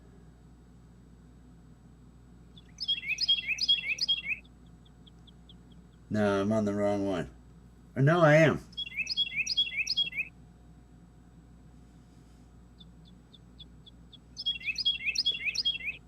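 A single bird chirps outdoors in quick repeated runs of bright high notes, with pauses between the runs, while a person talks briefly in the middle over a low hum.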